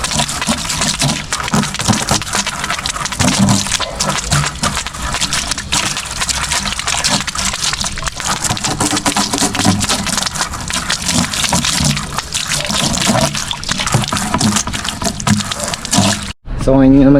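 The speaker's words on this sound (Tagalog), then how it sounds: "lagyan mo natin sila ng ating mga tubig." Water pours steadily into plastic buckets that still hold a little leftover oil, making a loud, continuous splashing rush that lasts throughout before stopping abruptly near the end.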